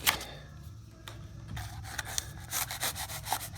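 Excess chinking on a log house wall is carved back with rough, close scraping and rubbing strokes that come in irregular bursts, growing busier toward the end.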